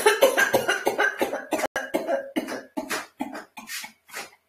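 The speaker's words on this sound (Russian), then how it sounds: "Камушек запускаем далеко и кашляем вместе с тем, как камушек прыгает." A rapid series of about a dozen short, forceful coughs in a bouncing rhythm, done by a group leader during a laughter yoga breathing exercise, close and clear with no talking.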